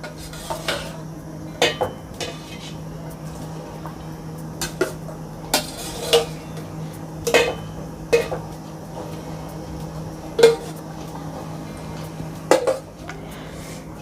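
A spoon clinks and scrapes against a metal pot while payasam with cooked pink balls is stirred, producing sharp, irregular taps over a steady low hum.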